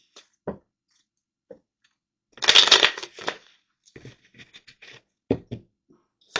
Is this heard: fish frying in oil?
no